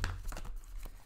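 A Morgan-Greer tarot deck is shuffled in the hands, producing a brief, close riffle of card stock flicking and rustling over about a second, with low handling rumble underneath.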